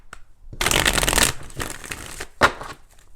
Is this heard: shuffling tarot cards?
yes